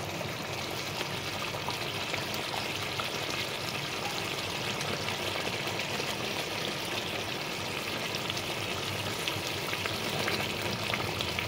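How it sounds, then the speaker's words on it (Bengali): Eggplant curry for a Bengali begun bahar simmering in a pan, giving a steady, close, moderately loud bubbling and sizzling hiss that runs throughout with no talk over it. "তরকারিটা ফুটে উঠে গেছে,"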